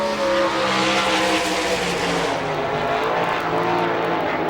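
Ford-powered number 63 sprint car at an All Star Circuit of Champions dirt-track race near Pittsburgh, a loud roaring engine howl passing close then easing, with tyre hiss and crowd-ground rumble, no voices.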